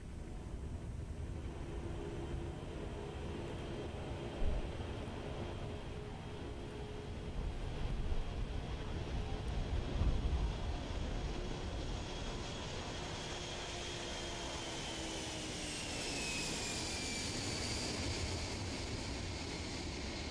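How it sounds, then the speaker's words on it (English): The Boeing carrier aircraft bearing Space Shuttle Endeavour takes off down Runway 15 at the Kennedy Space Center Shuttle Landing Facility, a faint, distant, continuous jet roar that swells slightly midway and gains a rising whine toward the end. "beginning to thunder down Shuttle Landing Facility Runway 15, heading to the southeast, taking to the skies for one last time from Kennedy Space Center."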